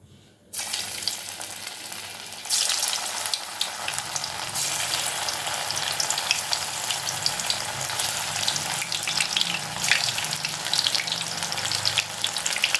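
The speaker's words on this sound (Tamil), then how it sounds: "இப்போ எண்ணெயும் சூடாக இருக்குது. இது ஊற வச்சு 10 நிமிஷம் ஆயிடுச்சு. இப்போ பொரிச்சு எடுத்துடலாம்." Soaked soya chunks (meal maker) drop into hot oil and deep-fry with a loud, continuous crackling sizzle that jumps up after a brief quiet start and keeps bubbling steadily, close by, with no talking.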